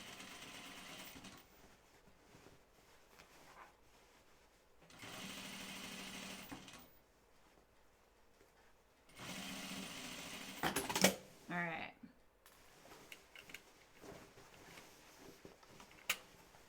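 Sewing machine stitching down the vent of a jean skirt in several short bursts of rapid, close mechanical whirring, separated by quiet pauses and some handling clatter.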